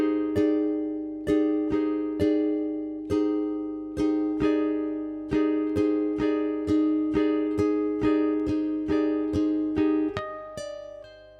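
Ukulele notes are plucked one after another in an even rhythm, with bright ringing harmonics and quick pull-offs, each note decaying cleanly before the next.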